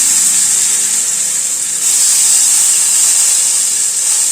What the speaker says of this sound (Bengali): আলুটা দিয়ে দিচ্ছি।